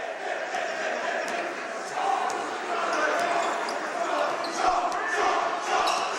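A basketball is dribbled on a gym court at a boys' high school game between Albert Gallatin and Laurel Highlands, with steady bounces and squeaking sneakers under the hum of the crowd and a commentator talking.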